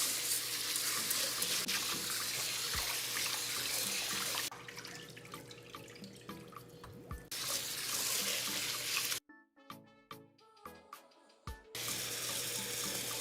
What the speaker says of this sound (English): We're going to wash it until the water is no longer cloudy.